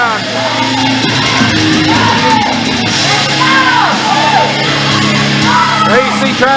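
Crowd at a professional wrestling event shouts, whoops and yells continuously, a loud, dense roar of many voices.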